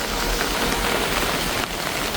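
Heavy rain falling outside, a dense, steady broadband patter and hiss with no pauses, fairly close and alone.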